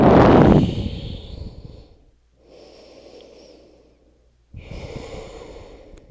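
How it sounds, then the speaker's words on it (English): Slow, deep breaths come close to the microphone during a yoga class. One strong exhale is followed by a softer inhale and another long, airy breath, with pauses of near silence between them. "Slow, deep breaths"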